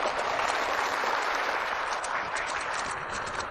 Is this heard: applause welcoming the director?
yes